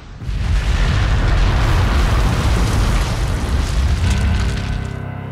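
A simulated Tunguska asteroid airburst explosion, a loud, sustained rumbling boom that starts abruptly and roars on with heavy low-end energy before slowly easing.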